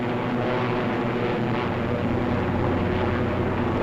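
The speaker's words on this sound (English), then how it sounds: "The flight reforms and climbs to regain its position with the rest of the squadron." WWII P-47 Thunderbolt fighter planes flying and climbing in formation, a steady loud engine drone with propeller roar filling the air without pause.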